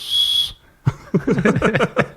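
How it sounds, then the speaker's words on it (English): A personal safety whistle gives a shrill, steady blast held for about half a second, then a pause and close talking. "And the rape whistle."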